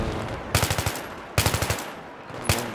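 Machine gun fire in Battlefield 3 comes in three loud, close bursts: two rapid strings of about six rounds each, then a single sharp shot, with short pauses between.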